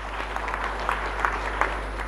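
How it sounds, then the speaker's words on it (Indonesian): Audience applause at a Jambi provincial parliament plenary session, a steady patter of many hands clapping in a large hall, moderately distant over a constant low hum. "Tepuk tangan buat kita semua"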